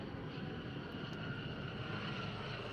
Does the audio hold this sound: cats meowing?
no